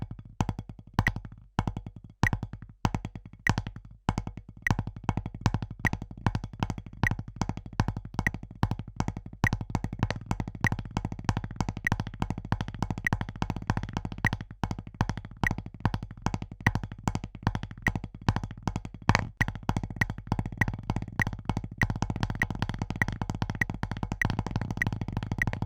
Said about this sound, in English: Table of time, we're just basically going to do eighth notes,